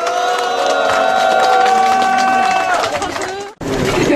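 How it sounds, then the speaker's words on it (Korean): A crowd at a peace march rally in Mokpo claps and cheers together in one loud, sustained burst that fades out quickly at the end. "우리 다 같이 박수 치면서 와!"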